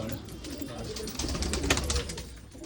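Golden pigeons in a breeding loft give a short stretch of low cooing, faint and muffled under a general rumble of background noise.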